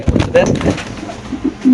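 Soft, low pigeon coos repeat a few times close by, mixed with faint rustling and a murmuring voice in the background.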